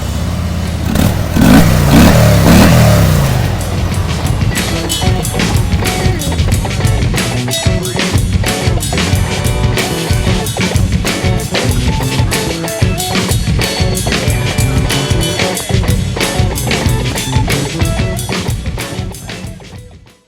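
A 2019 Harley-Davidson CVO Street Glide's V-twin rumbles and revs up close and loud, with a strong throttle burst at the start that settles into a steady, throbbing idle that holds to the end.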